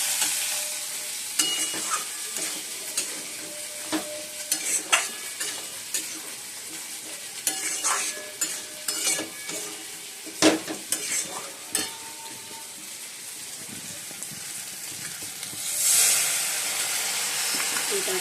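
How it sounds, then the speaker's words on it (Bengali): Onions and tomatoes frying in a pan at home give a soft continuous sizzle with scattered stirring clinks and scrapes, close but moderate in level, with a brief steamy hiss rising near the end. "আর এদিকে পেঁয়াজটা তো ভেজে নিয়েছি, এরকম টমেটোগুলো দিয়ে দিয়েছি।"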